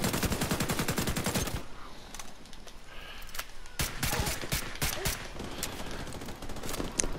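Rapid automatic gunfire in The Division 2, dense bursts of loud close shots at the start, then scattered single and clustered shots continuing over a steady game background.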